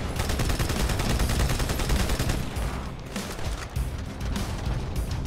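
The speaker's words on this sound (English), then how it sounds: "I'm just gonna shoot at you, okay?" Dense, sustained gunfire in the Halo 2 video game, a loud rapid barrage of automatic shots and bursts running the whole stretch with no talking.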